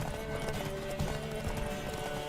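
Horse hooves clip-clopping in the video game The Witcher 3, a steady trotting rhythm under a bed of music and ambient game sound.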